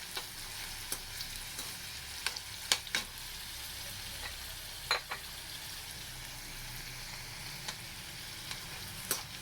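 Chillies fry in a pan with oil while garlic chutney is cooked, a steady soft sizzle broken by occasional sharp crackles and pops, close and with no talking.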